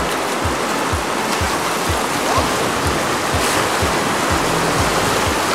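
Rushing river water on the Yuryuzan in the Southern Urals during a raft descent, a loud steady flow with regular soft paddle strokes pulsing beneath it.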